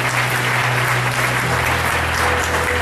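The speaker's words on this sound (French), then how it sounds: "applaudissez pour le Seigneur Jésus-Christ" Church congregation applauding at a worship service of praise and testimony, a dense, loud, continuous wash of many clapping hands that stays steady throughout, with a low hum underneath and no clear talking.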